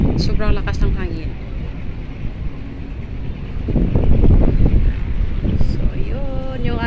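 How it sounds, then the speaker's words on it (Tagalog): Strong wind gusts blow across a microphone on a street in the Mandaluyong area near Guadalupe on a warm afternoon, a steady loud roar with passing traffic underneath while someone talks throughout. "Kahit mainit, maibsan ng konti dahil sobrang lakas ng hangin."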